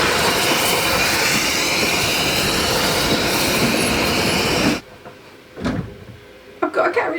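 An Isle of Man railway train running, a loud steady rush of wheel and carriage noise that drops away abruptly near the end, leaving quieter knocks and rattles.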